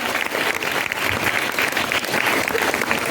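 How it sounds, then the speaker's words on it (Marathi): An audience claps loudly and steadily throughout at a Marathi children's literature conference hall, a dense, close burst of applause with no talk over it. "एका जोरदार टाळ्या वाजल्या आपण"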